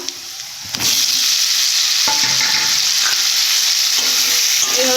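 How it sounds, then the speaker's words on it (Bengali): Potatoes coated in chilli powder hit a hot pan and burst into a loud, continuous sizzle after a brief quiet start, with spatula scrapes and stirring heard close up. "ভালো করে মেখে নিয়ে ভেজে নেব"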